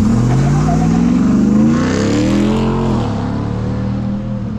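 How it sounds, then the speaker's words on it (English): A car engine rumbles loud and close as it accelerates past at an intersection during a dawn group ride, its pitch rising and then settling into a steady drone. "This car is going to trigger the light for us."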